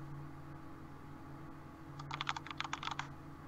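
A quick burst of typing on a linear-switch mechanical keyboard, soft uniform clacks in a rapid uneven patter over a quiet background hum.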